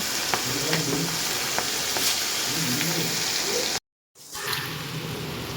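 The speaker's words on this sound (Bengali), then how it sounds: "এবার আমি কেটে রাখা পেঁয়াজটা তেলে দিয়ে দেব" Chopped onion frying in hot oil, a steady crackling sizzle with scattered pops and stirring, briefly cut out before the frying resumes.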